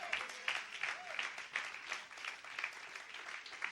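A church congregation claps together at a Spanish-language service, a dense, fairly quiet wash of applause that carries on without a break from start to finish.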